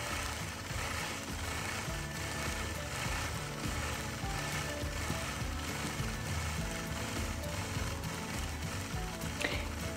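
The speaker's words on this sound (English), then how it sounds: "I loaded it on my machine sideways so that I could quilt a little bit more in each pass" Longarm quilting machine stitching a scalloped border design in fine thread, a steady mechanical whir with rapid rhythmic ticking, constant and fairly quiet throughout with no talking.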